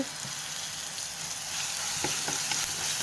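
Masala and curry leaves sizzle steadily in a hot pan as the base for a tuna curry, a close, even hiss with a few soft stirring ticks and no talking.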